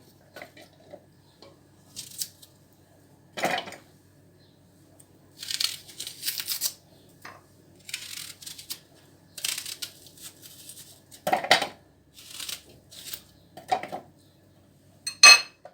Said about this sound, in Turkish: Etim tavada pişerken ben de burada 2 adet soğanımı el bombanın içine atıyorum.